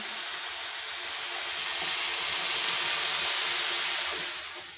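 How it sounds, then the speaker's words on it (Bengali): Water pours into a hot pan of sugar to make syrup. A broad rushing steam hiss swells louder toward the middle and then eases off at the end, with no voices. "যে বাটির চিনি দিয়েছি সেই বাটির এক বাটি জল দিয়ে দিচ্ছি"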